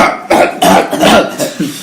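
A burst of several harsh, raspy coughs in quick succession, loud and close, with brief gaps between them.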